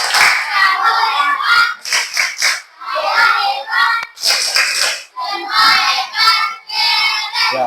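A classroom of children claps together in a rhythmic chant-like routine, with bursts of patterned clapping interleaved with children's voices calling out, loud and close, in an indoor coding and artificial intelligence lesson.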